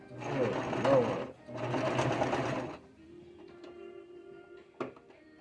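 A sewing machine stitches a fabric face cover in two steady, close rattling runs of roughly a second and a half each, then stops. Quiet ticks and one sharp knock follow. The machine is skipping stitches and its tension is off.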